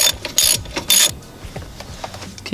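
Ratchet clicking as it turns a half-inch bolt on a Jeep Wrangler Unlimited rock slider bracket, two loud bursts of rapid pawl clicks followed by quieter, scattered mechanical ticks and scrapes.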